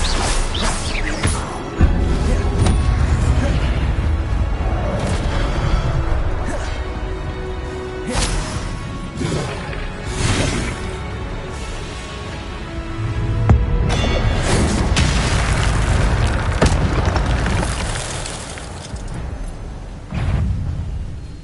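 A Hogwarts Legacy duel fills with repeated fire-spell blasts, whooshes and crashing impacts amid steady game music and effects. It goes on loud and without a break for around twenty seconds.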